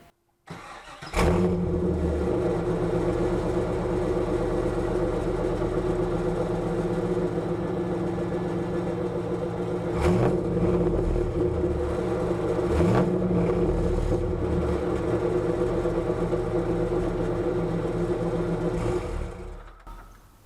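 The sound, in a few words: Pontiac Trans Am V8 engine starting and idling, Texas Speed headers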